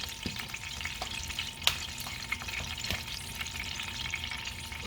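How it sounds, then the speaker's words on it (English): Beef steaks sear in a hot pan with a steady, moderately quiet sizzle and crackle, punctuated by a few sharp pops and spatters, with no talking. "So now I'm just going to sear this on both sides."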